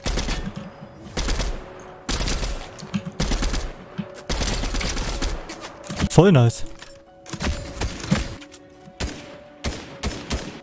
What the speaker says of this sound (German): ich schieße einfach so auf die